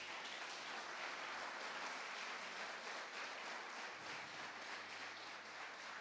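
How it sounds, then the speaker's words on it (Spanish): A church congregation applauds together, a steady, dense wash of clapping that fills the space evenly and holds at an even level without pause, no voices standing out above it. "Dale un aplauso al Señor."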